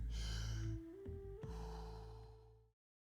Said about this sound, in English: Breathe in, breathe out. Just go with the flow of the breath.